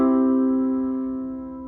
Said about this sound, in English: The major chord sounds like this.